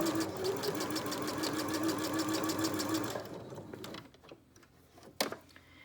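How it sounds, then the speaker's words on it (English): Sewing machine running a twin needle through knit fabric: fast, even rhythmic stitching chatter for about three seconds, close by, then it stops, followed by a few clicks and handling noises. "And just go ahead and stitch."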